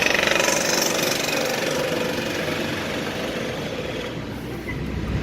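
A crashed Honda Accord with a bent wheel driving along, heard from inside as a loud, steady engine drone and rumbling vibration with a faint rhythmic knocking, and no one speaking.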